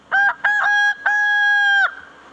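A magpie imitates a rooster's crow in three loud, close, cock-a-doodle-doo calls. Two short bursts are followed by a longer drawn-out call, with no other sound behind them.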